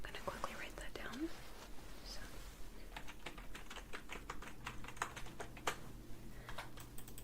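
Eye exam results are quickly noted down in a quiet, dark room, a faint run of soft, close tapping and scratching clicks with a hushed whispering voice in between.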